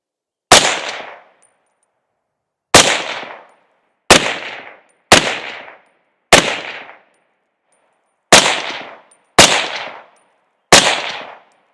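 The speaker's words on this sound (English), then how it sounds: "Popping steel at 100 yards" A suppressed CMMG BR47 rifle fires at steel targets 100 yards away: eight loud, sharp cracks at uneven intervals, each followed by a quick ringing decay, with silence between shots.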